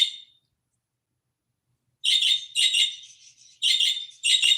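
Pet birds' chirping played back through a phone from YouTube: a brief call, a pause, then a run of quick, bright chirps and tweets in short bursts, fairly close and moderately loud.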